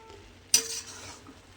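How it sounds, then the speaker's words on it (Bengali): A spoon turns white pilau rice in a pot, giving one quick, soft scrape and rustle over a quiet background of faint cooking sizzle. "এবার আমি এটাকে আস্তে আস্তে একটু মিশিয়ে উল্টিয়ে দেব"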